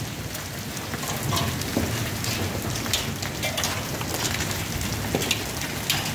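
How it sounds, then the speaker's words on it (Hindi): Hail falling with rain in Bathi Qaisrani, a steady dense patter of drops and hard pellets on surfaces, close and continuous with faint rumbles underneath and no talking. "इधर ये बारिश और बारिश के साथ ये जालाबारी।"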